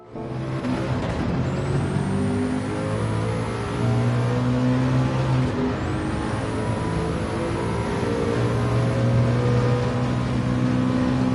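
A Nissan R92CP race car in a racing video game, held near full throttle on the Sarthe circuit, gives a continuous loud engine drone with a rising high whine and a brief upshift-like break midway.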